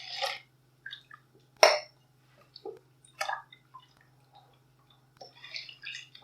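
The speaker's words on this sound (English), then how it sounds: "I'm gonna add the rest of the liquid" Milk and other liquid poured into a bowl of yeast-dissolved baking mixture, heard as short splashy glugs and drips in separate bursts with quiet gaps between them, close by and fairly faint.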